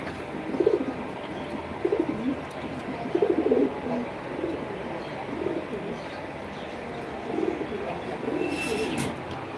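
Domestic pigeons in a loft cooing, several soft low throaty coos rising in separate bursts over a steady background hum.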